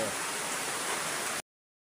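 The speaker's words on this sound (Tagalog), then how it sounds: "Ayan, lumalakas pang ulan, o." Steady heavy typhoon rain hisses evenly and fairly close, a dense wash of drops that cuts off abruptly.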